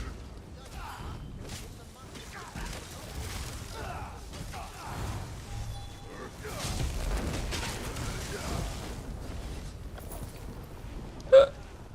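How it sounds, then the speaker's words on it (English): One sharp, sudden hiccup near the end stands out from a background of quiet game sounds and soft murmuring voices. "I get the hiccups."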